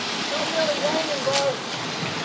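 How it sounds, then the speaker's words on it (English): Steady rain hisses evenly throughout on a rocky shoreline during land-based fishing, a dense wash of patter with a faint tonal sound drifting briefly over it. "It's raining, Milan."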